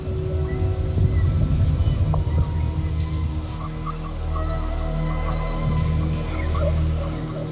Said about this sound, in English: Shower was on, and all the water was running.